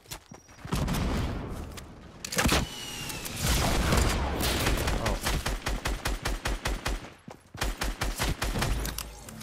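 Rapid gunfire from a Fortnite match on Nintendo Switch, with a sniper rifle among the weapons: bursts of loud sharp shots, a dense fusillade in the middle and quick repeated cracks near the end.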